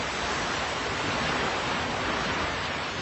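Continuous broadband rush of ocean waves during a ship voyage, an effect for a radio drama. It stays steady and fairly loud throughout, with no voices.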